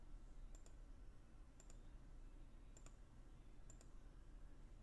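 Four quiet, evenly spaced pairs of clicks from bracket keys pressed on a computer keyboard, each a crisp double tap about a second apart, over a faint low hum.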